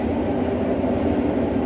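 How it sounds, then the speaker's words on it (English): A locomotive-hauled passenger train running from Liverpool to Norwich passes close by with a steady, loud rumbling roar and rail noise that holds unchanged throughout, with no voices over it. "Looks like a locomotive haul train."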